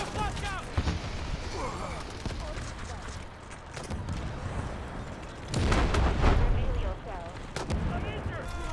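Gunfire and a flashbang grenade in the shooter game Delta Force: repeated shots and a louder bang under shouted voices, with dense battle noise throughout.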